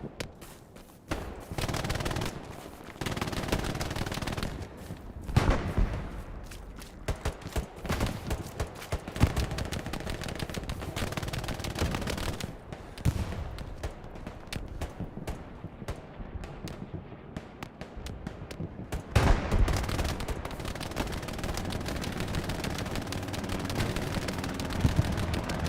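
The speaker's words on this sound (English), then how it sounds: "Yep, I'm getting shot at" Gunfire in a World War II video game: dense bursts of rifle and machine-gun shots crackling near and far, rapid irregular volleys continuing throughout with short lulls.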